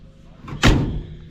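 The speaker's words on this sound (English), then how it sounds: "Ooh, that door shuts good." A door on an old farm truck swings shut with one solid, heavy thunk, loud and close, after a moment of quiet room noise.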